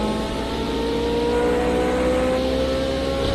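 Sustained high-pitched race car engine whine in a video game at Dubai Autodrome, holding at a steady rev, loud and continuous with no talking.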